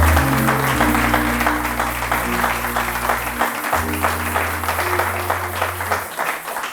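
A church congregation breaks into sustained, loud applause with dense clapping throughout, while sustained keyboard or organ notes carry on underneath.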